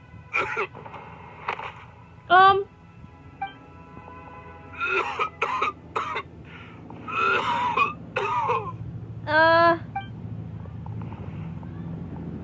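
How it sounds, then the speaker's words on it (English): A character in Genshin Impact coughs repeatedly in short harsh bursts with throat clearing, spread across the scene over soft game ambience and music. "Why is he coughing so much?"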